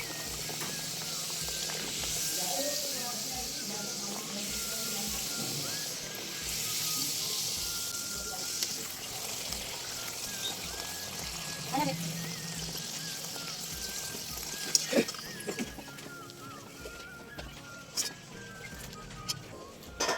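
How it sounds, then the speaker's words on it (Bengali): Luchi frying in hot oil for breakfast in a home kitchen, a steady bright sizzle and hiss running throughout at close range with occasional clinks and light movement, no clear talk. "এখন সকালের খাওয়ার লুচি ভাজা চলছে"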